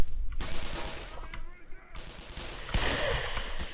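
Bursts of gunfire in the Half-Life shooter game, loud broadband shots and rapid volleys crowding the short stretch, with the game's noisy action around them.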